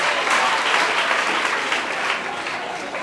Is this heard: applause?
yes